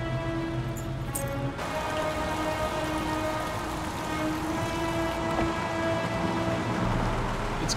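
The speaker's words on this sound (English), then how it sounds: "It's raining." Steady rain falling in the video game Heavy Rain, a dense, even hiss of drops on surfaces that continues throughout at moderate level, with no talk.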